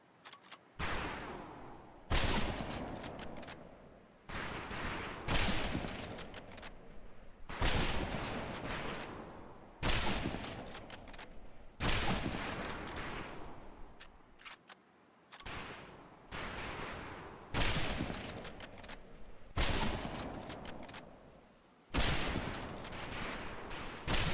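Rifle fire on a video game shooting range in Medal of Honor: Pacific Assault, loud bursts of rapid gunshots in repeated volleys of a second or two each, separated by brief pauses.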